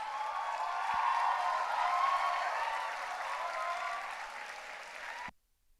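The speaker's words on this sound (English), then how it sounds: "Give yourselves a round of applause." A graduation convocation audience of graduates and parents applauds in a sustained, dense wash of clapping that swells, holds steady and fades, ending abruptly, with no talk.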